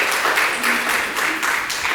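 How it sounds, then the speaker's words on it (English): An audience at a school kickoff event gives a steady, even round of applause for an honoree, dense clapping filling the room at moderate volume with no talk over it. "Yes, a nice round of applause for Steve."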